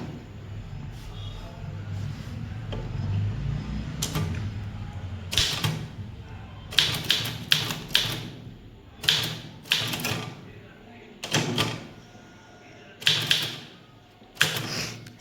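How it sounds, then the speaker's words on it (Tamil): Manual typewriter keys striking in uneven bursts of sharp clacks, with a louder carriage-return-like thump now and then, over a low background hum; typed up close while preparing a circular letter for the English junior typing exam. "ஸோ நெக்ஸ்ட் லைனில் நான் ரிகார்டிங்கை டைப் பண்ண போகிறேன்."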